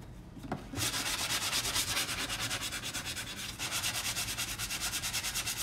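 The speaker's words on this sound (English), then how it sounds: "I'm gonna grab my sander." An electric sander buzzes loudly against wood after a short start-up, a continuous gritty whir with a fast pulsing texture, close by.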